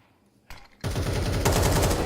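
Gunfire in a professional Counter-Strike match between Mouz and Navi: a short silence, one sharp shot, then a sustained rapid automatic burst that stays loud to the end.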